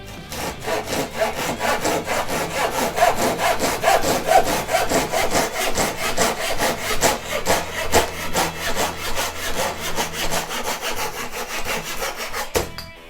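A Stanley FatMax Japanese pull saw with 14 teeth per inch cuts through wood in steady, rapid rasping strokes, close and continuous throughout with no voices.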